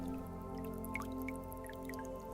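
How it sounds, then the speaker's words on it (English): Gentle water trickling and dripping in a cave, scattered echoing drips over a faint sustained tonal hum, quiet and calm with no one speaking. "A gentle sound of water trickling is too inviting to ignore."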